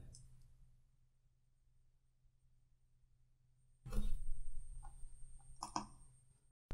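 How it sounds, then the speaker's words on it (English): A few sharp plastic key clicks from typing on a ZX Spectrum Plus computer keyboard, faint and brief, coming after a stretch of quiet low hum. "it does make it a little bit more difficult to type without the extra words and characters on the keyboard there"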